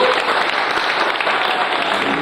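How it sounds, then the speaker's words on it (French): A crowd at an FSGT cycling awards evening in Sarthe claps loudly and steadily in a close, continuous round of applause, with no voices over it. "vous pouvez l'applaudir très très fort également"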